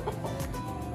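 Rhode Island Red cross hens, four months old and free-range, clucking close by in a short burst against a busy background of outdoor noise, with no speech.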